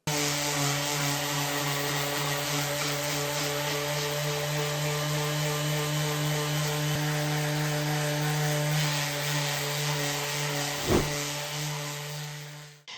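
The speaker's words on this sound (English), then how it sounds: "I've got my sander. I'm going to take this out to my garage, and I'm going to sand off this." A power sander works over a wooden cutting board in a garage, giving a loud, steady motor whine with a strong buzzing hum that holds nearly constant before a brief bump and cutoff at the end.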